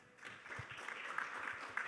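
A conference audience at an aviation safety and security session claps to welcome the moderator, a soft burst of applause that builds quickly and stays fairly faint and distant.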